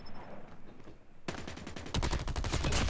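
Gunfire in COD Mobile starts after a quiet moment, then rapid automatic bursts crackle, growing louder and denser toward the end, close and sharp.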